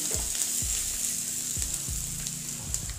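Onions frying golden in a pan for a jackfruit curry, a constant close sizzle broken by several rhythmic scraping stirs of a spoon, with no voices.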